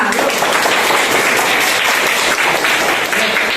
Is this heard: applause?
yes